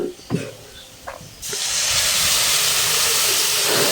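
Lentils poured into a hot pan of fried chopped onion and garlic bring a sudden loud, steady sizzling hiss that holds to the end, after a few quiet knocks and clatters near the start.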